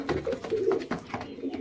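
Pigeons, a pair of white-eyed birds, give soft throaty coos in a short close burst of repeated low rolling calls.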